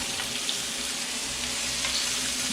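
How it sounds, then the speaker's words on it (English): Steak and scallops basted with melted garlic butter in a tipped pan, a steady close sizzle and spatter with faint scraping, no talking. "Tip the pan and just baste it like this."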